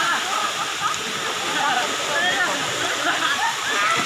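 Casilak Farm View Waterfalls in New Corella, Davao del Norte pour with a loud, continuous rushing roar and splashing, and people talk over the water.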